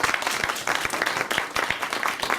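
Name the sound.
applause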